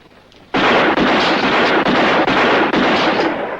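A rapid, loud barrage of gunshots fills a western film scene as bullets are fired off. It starts abruptly and roars almost continuously, with only brief gaps between bursts and no talking.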